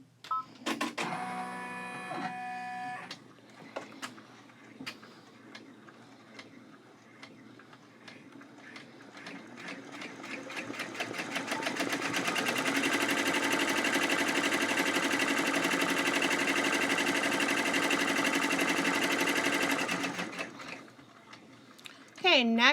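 A sewing machine stitches a bag tag with a peek-a-boo pocket, starting with a short run of beeps and tapping clicks, then a steady motor whir that swells and holds for several seconds before stopping, with someone talking over parts of it.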